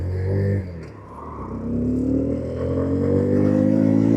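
A Boom Vader 125cc motorcycle, a Honda Grom clone fitted with a 17-tooth sprocket, pulls out onto a busy road; its small engine dips briefly, then climbs in a rising rev that keeps building to the end.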